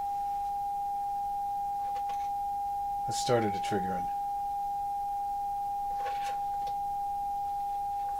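A steady, pure electronic oscillator tone from a modular synthesizer's Qu-bit EON module hums continuously at one pitch, with a person briefly speaking over it partway through.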